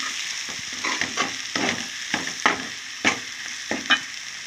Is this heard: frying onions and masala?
yes